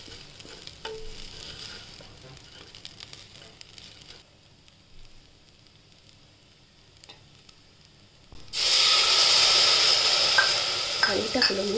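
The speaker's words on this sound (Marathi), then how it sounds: "आता बघा आपण आणखी परतून घेऊ थोड्या वेळ। तांदूळ एकदम छान भाजले गेले" Basmati rice and grated coconut are stirred and roasted in a pressure cooker, first with soft scraping, then a loud, steady sizzle breaking out near the end, with no voices.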